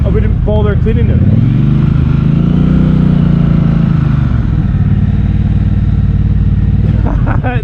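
A Triumph Bobber motorcycle engine drones steadily at cruising speed, loud and close, its pitch rising and falling slightly, with a voice speaking over it.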